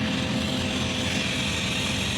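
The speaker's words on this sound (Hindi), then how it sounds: "ये पावर मोड में डल चुका है, ये आरपीएम देखो अब पावर मोड में डलने के बाद में" A tractor engine revs hard in power mode, a steady loud drone with a continuous low rumble and a broad whine held throughout, with no talk over it.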